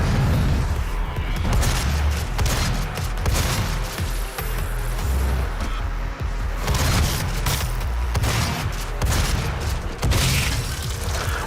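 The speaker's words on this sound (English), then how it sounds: "now let's show you how to use the shotgun" Dense, continuous booming and rapid gunfire blasts from shotgun combat in DOOM 2016 fill the whole stretch, loud and layered with game action and no talk.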